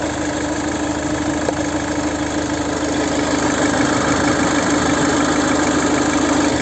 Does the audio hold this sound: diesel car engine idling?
yes